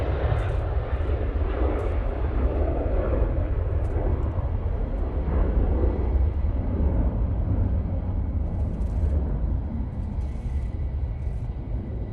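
A Jet2 airliner rotating on takeoff at Manchester Airport gives a steady, broad jet engine roar that holds loud and continuous throughout, with no talk over it.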